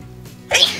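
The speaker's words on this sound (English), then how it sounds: "I have to sneeze" One quick sneeze bursts out near the end after a moment of near silence, close and sharp.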